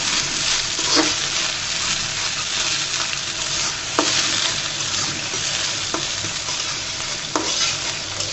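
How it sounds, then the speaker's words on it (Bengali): Shrimp fry in a pan with a loud, steady sizzle, broken by occasional sharp clicks of a utensil stirring. "এটাকে ভেজে নিব চিংড়ি মাছগুলোকে।"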